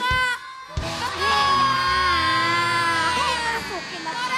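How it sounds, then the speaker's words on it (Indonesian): A studio audience on an Indonesian comedy show cheers for Ade and Kak, breaking into a loud, sustained burst of shouting and whooping voices after a brief pause, high-pitched and crowded, with some speech mixed in. "Kita sorakin ke Ade sama Kak"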